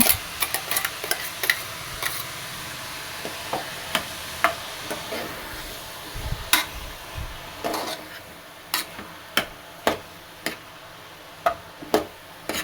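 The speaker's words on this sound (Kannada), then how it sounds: "ರುಬ್ಬಿಟ್ಕೊಂಡಿರೋ ಮಸಾಲೆ ಹಾಕ್ಕೊಂಡು ಚೆನ್ನಾಗಿ ಮಿಕ್ಸ್ ಮಾಡ್ಕೊಬೇಕು" Ground masala stirred into beetroot korma in a pan, a spoon repeatedly knocking and scraping the metal in sharp, steady strokes over a soft sizzle, close and alone.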